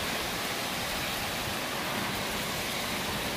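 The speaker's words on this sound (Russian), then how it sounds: "Ого, не на шуточку. Нормальный дождик." Steady rain falls outdoors as a soft, continuous broadband hiss, fairly quiet and even, with no voices.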